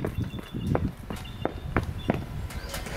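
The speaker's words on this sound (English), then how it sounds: "we stomping loud, bro." Heavy stomping footsteps from a group of people outdoors land in an irregular run of loud, thudding hits mixed with faint background noise, with no speech heard.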